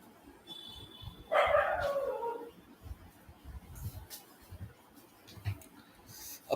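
Stray dogs in a residential neighborhood let out one sharp yelping bark that trails off, then fainter scattered barks in the distance under a noisy background.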